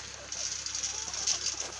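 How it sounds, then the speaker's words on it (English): Hungry farmyard chickens clucking at close range on a cold homestead morning, a steady murmur of soft overlapping clucks with no talk. "As you can see, these chickens are hungry."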